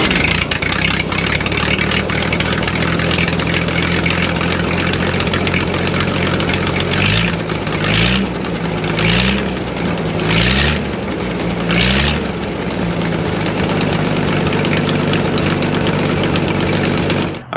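Engine of a Gleaner A2 combine running loud and close at a steady idle, with a rough rhythmic knock, a few brief revs partway through, then cutting off abruptly at the end.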